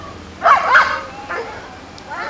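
A police dog barks during a demonstration at a community family night event: a brief cluster of sharp yelping barks, moderately distant, over steady outdoor background noise, with a fainter yip later.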